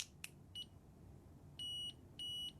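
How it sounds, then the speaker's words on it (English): Thin, high electronic beeps from a multimeter's continuity buzzer: a short chirp, then a brief tone and two longer sustained beeps, with a small click at the start and faint background hiss. "It will actually do a buzzer"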